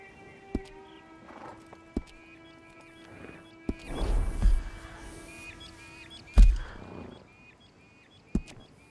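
Horse hooves in Red Dead Online thud irregularly with occasional sharp knocks and a soft galloping rush, alone under faint game music tones, no voices.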